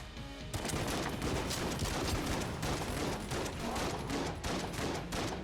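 Rapid, continuous gunfire from the twin-stick shooter Enter the Gungeon crackles on and on in dense bursts at a fairly low level, with no talking.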